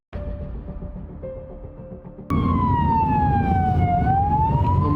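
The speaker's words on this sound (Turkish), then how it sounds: "Ambulans ona gidiyor olmasın?" A loud ambulance siren wails close by, a steady tone that drops slowly in pitch as it passes, over rumbling traffic, after a quieter engine hum.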